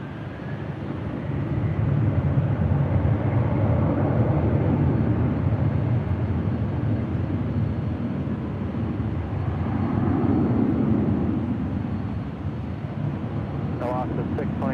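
Airliner on takeoff from runway 24 left at LAX, a broad low roar of jet engines swelling and holding steady throughout, rising again midway, with a brief faint radio voice near the end.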